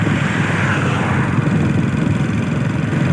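A motorbike engine runs steadily and close throughout while riding along a road, a continuous mid-pitched drone with wind rush and no pauses.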